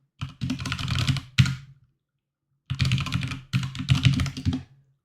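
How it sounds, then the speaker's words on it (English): Fast typing on a computer keyboard in two dense bursts separated by a short pause, close and crisp clattering keys alone without talk. "Let me just type out a few things"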